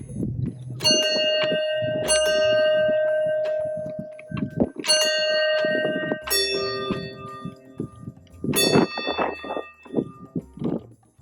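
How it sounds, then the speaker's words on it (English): Playground sound-maker bells in a park are struck a handful of times, each clang ringing out with bright, sustained tones that fade between hits, close and clear with no talking. "Ooh, the bells."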